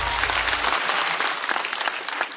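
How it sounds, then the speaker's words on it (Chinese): A studio audience at a Chinese stand-up comedy show bursts into steady, dense applause that fills the room. A low rumble beneath it fades after the first moment, and the clapping carries on alone to the end. "再次掌声送给基业"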